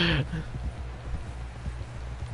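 Horse hooves in the video game Red Dead Redemption 2, a steady rhythmic clip-clop of a riding horse over a continuous game background, with a brief tonal sound at the very start.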